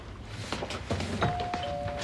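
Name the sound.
doorbell ringing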